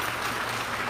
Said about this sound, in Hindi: क्या प्रभु यीशु को तालियों से धन्यवाद देंगे?